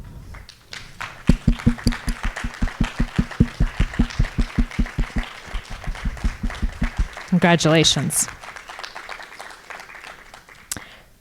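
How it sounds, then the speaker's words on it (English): Audience at a donor appreciation and scholarship celebration claps for the scholarship winners in a steady, evenly spaced rhythm that fades out, followed by a brief spoken voice. "Could we have all of our scholarship winners stand so that we can give you a huge round of applause?"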